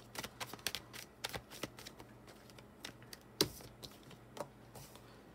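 Tarot cards being shuffled in quick bursts of riffling clicks and flutters, close and fairly quiet, with no voices.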